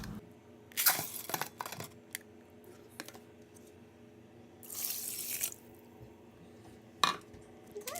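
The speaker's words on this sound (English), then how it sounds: "You're gonna put a cup of rice and 1 cup and 1/4 of water into your rice cooker." Water poured into a rice cooker over a cup of rice, about a cup and a quarter in all, with a splashing rush in the middle and a few shorter splashes and clatters before and after. Nobody speaks.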